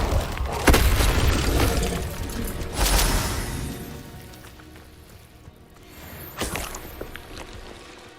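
An Incendio fire spell cast in the video game Hogwarts Legacy, heard as several loud whooshing bursts and crashes over rumbling game ambience, with a quieter fading tail between impacts.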